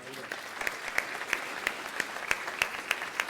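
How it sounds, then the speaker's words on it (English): Audience applause at an evening awards show honoring committee members, a steady wash of clapping with some louder individual claps standing out through the clip. "Please help us recognize the efforts of all of our committee members with a round of applause"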